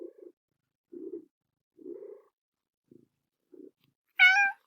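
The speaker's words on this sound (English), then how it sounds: "Sorry about the cat. She's kind of noisy." A house cat makes several short, quiet chirps and purring murmurs close by, then a louder, clear rising meow at the end, with near silence between the sounds.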